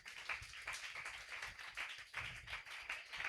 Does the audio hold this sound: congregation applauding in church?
yes